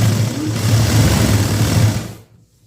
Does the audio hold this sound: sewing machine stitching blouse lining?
yes